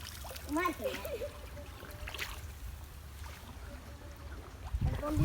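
Small rowboat on a pond, gentle water lapping and trickling against the hull with soft splashes, while a voice talks faintly at the start and a louder knock comes near the end.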